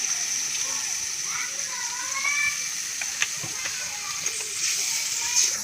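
Water poured into a sizzling pan of masala for an Adivasi-style chicken curry gives a steady frying hiss with small splashes and crackles throughout, moderately loud and close.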